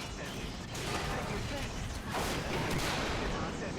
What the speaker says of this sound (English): It looks like there is some sort of vehicle shooting at me